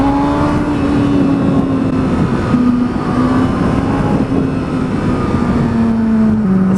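A Kawasaki ZX6R sport motorcycle pulls away under steady acceleration, its engine tone climbing and dropping slightly between gears, loud and close over constant wind rush, with no talking.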